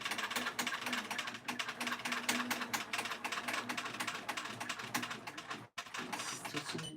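A sewing machine stitches in the ditch along the seams of a quilted pillow pin keep, its needle hammering in a rapid, steady close-up rhythm that breaks off briefly near the end before resuming.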